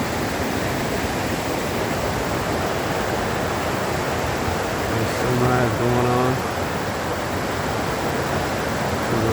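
A river rushes in a loud, steady roar beneath a new wooden footbridge on the Pacific Crest Trail, with a brief spoken remark near the middle.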